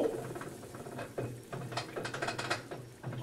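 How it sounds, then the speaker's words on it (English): A GE Infusor high-efficiency top-load washing machine, model GTWN5050M0WS, rattles and clanks like chains, with irregular metallic knocks and patter bursts at close range and no talk. "that sounds like fucking rattling chains"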